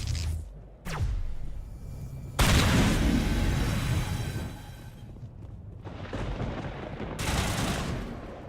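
Sustained weapon fire in the Mass Effect video game as the gun overheats, coming in loud dense bursts that cut out and resume, with brief gaps between volleys.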